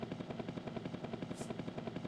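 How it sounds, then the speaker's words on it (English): Helicopter flying in a Mode 7 style Amiga video game, a steady rapid rhythmic chopping of rotor blades in synthesized game sound, continuous and fairly loud with no talking. "as the whole world rotates around you while you fly around in your helicopter"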